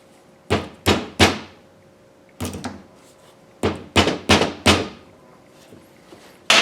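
Several sharp hammer taps on metal tabs of a car's rear axle boot, each ringing out briefly, coming singly and in quick groups of two or three with short pauses between.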